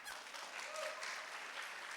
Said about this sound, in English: you can clap really loud if you liked it